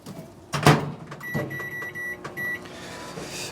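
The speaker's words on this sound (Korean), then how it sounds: "우동면을 봉투에 넣고 전자레인지에 한 2분 30초 정도 데우겠습니다" Microwave oven heating frozen udon noodles in a bag, with a loud thump and clatter near the start followed by a few short electronic beeps over a low running hum.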